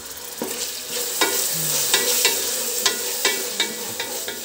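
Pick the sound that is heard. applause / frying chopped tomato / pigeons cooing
frying chopped tomato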